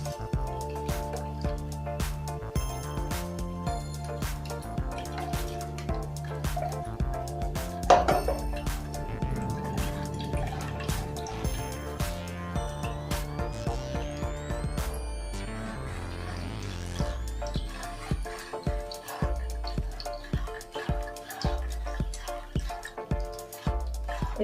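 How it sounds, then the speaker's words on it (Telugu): Blended watermelon juice with sugar and lemon is poured through a strainer, giving scattered light clinks and drips against a bowl, faint and intermittent beneath steady background music. "ఇప్పుడు దీన్ని స్ట్రైనర్లో వేసి వడగట్టాలి."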